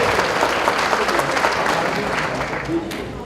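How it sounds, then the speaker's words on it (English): Crowd applause at an Asian Pacific American council gala honoring past advocate leaders, a dense steady roar of clapping from a large audience, with voices mixed in. "give all those guys a round of applause for all the great advocate leaders"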